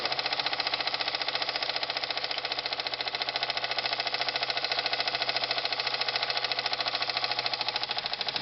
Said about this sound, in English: As the steam pressure gets lower, the engine slows down.